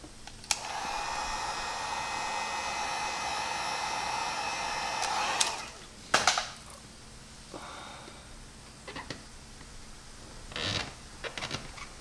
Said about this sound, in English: you have to get your heat gun, apply some heat to it